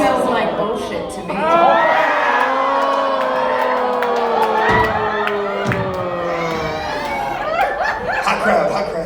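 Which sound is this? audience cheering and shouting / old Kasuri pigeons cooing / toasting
audience cheering and shouting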